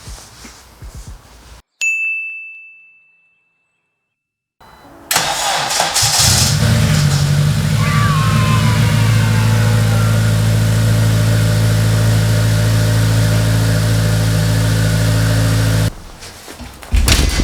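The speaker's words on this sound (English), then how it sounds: "I'm just going to jump the car really quick, make sure that it starts" A chime rings, then after a pause a turbocharged Honda Civic Si engine, newly reassembled after hydrolock, cranks and catches, settling into a loud steady idle close by before cutting off.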